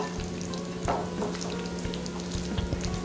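Banana blossom salad ingredients are tossed and mixed together, soft irregular rustles and light scrapes over a steady background hum, close by and fairly quiet.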